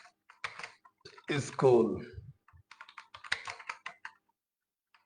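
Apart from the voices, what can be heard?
typing on a computer keyboard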